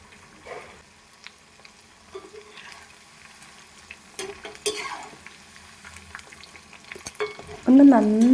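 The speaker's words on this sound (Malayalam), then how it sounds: "ഇനി നമുക്കിത് നല്ല തിളച്ച എണ്ണയിലിട്ട് പൊരിച്ചെടുക്കാം" Chicken pieces coated in masala frying in hot oil, a soft crackle through most of the stretch that swells into a louder, closer sizzle near the end as they go into the pan.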